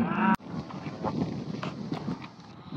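Cattle in a small farm field, with the mature cow group gathered for pregnancy checks; scuffling hoof and movement sounds and faint animal calls run steadily through the clip after a sharp knock near the start, with no talk.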